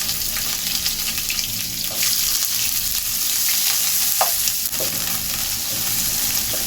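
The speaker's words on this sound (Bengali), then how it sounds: "আমি এখানে পেঁয়াজ দিয়ে দিব পেঁয়াজ আর কাঁচামরিচ" Onion and green chili hit hot oil with cumin and dried chili, a dense, close sizzle with the scrape and shuffle of stirring, no one talking.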